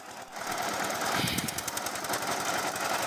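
A power tiller engine runs with its tines rotating, a loud, rapid mechanical knocking and rattling that holds steady close by.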